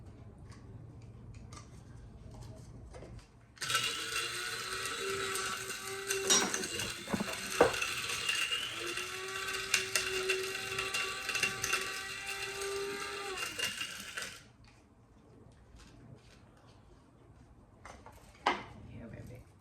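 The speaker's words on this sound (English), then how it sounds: "They're not grinding as good as the mushrooms did." Sun-dried tomatoes whirring in an electric grinder, a loud steady motor drone with rattling pieces that starts after a few seconds and stops abruptly near the end, with quieter handling noises before and after.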